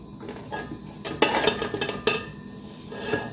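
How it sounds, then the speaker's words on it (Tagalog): Chopped onion tipped into a cooking pot for Omani-style salona, with a few sharp clinks and knocks of a utensil against the metal pot over a low kitchen background, no voices. "Ilalagay ko po ang aking sibuyas"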